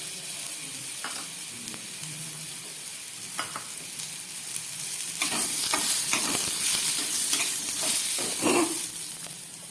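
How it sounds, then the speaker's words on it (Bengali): Mango pieces frying in oil with mustard seed tempering and a little chili: steady crackling sizzle with intermittent scraping stirs growing louder midway, close and continuous, no talking. "তেলের মধ্যে সর্ষে ফোড়ন দিয়ে আমি আমগুলোকে খুব ভালো করে ভেজে নিলাম"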